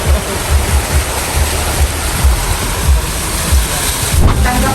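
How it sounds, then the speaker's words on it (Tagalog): Floodwater rushes in a continuous, loud, broadband roar with a churning low rumble, steady throughout and without any voices. "Ayan ang baha."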